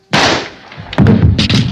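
Loud sharp gunshot bursts in a horror film scene: one blast near the start with a lingering tail, then several close, rapid reports in quick succession, no talking.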